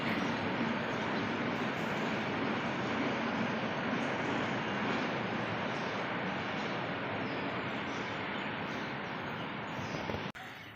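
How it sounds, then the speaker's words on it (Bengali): A train rumbles past in a steady, broad roar that holds for several seconds before cutting off abruptly; no one speaks. "ওইখান থেকে হচ্ছে ট্রেন যাচ্ছে"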